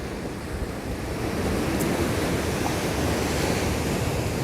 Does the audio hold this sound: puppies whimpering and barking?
no